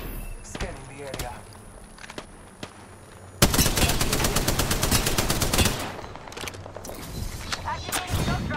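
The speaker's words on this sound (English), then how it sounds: "Shots fired, and they're hitting me." Automatic gunfire in the video game Apex Legends: scattered single shots at first, then a loud sustained burst of rapid rounds lasting several seconds, followed by a few trailing shots, with game voice lines in between.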